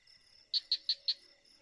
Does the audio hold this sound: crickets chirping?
yes